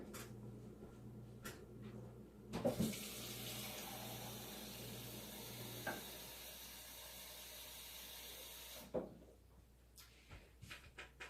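Two cups of water pour steadily from a tap into a pan for several seconds, a soft rushing hiss, then shut off, leaving small clinks and handling noises.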